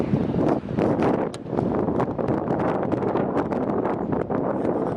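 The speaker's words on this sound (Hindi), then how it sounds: "बहुत तेज़ हवा चल रही है, ठंडी हवा चल रही है।" Strong, cold wind gusts along a riverside trail among snowy mountains on the Adi Kailash–Om Parvat trek. It buffets the microphone loudly in uneven bursts, alongside a constant rushing background, with no talk.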